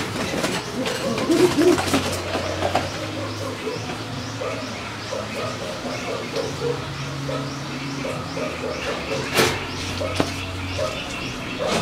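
Pigeons coo in a breeding loft, low soft rolling calls repeating at a moderate distance over a busy background with occasional rustles and knocks.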